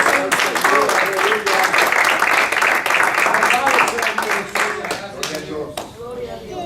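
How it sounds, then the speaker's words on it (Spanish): A church congregation claps hands together in praise, a loud, fairly rhythmic burst of clapping close by that softens and tapers off near the end. "Dele palmas al Señor"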